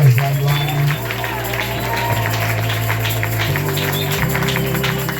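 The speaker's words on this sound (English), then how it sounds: "Can we clap hands for them?" A church congregation at a Sunday Passover conference service clapping to welcome new members, sustained crowd applause over a low held organ or keyboard tone that shifts pitch during the clapping.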